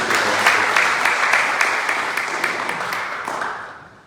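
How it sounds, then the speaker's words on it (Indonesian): A church congregation applauding together indoors during a worship service, steady clapping that holds for a few seconds and then fades out. "Beri tepuk tangan dulu buat Tuhan."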